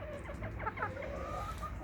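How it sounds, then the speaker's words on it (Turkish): A Vorwerk ornamental rooster clucks nearby in a short run of quick, throaty clucks over a low background hum. "Bakın horoz şöyle geldi"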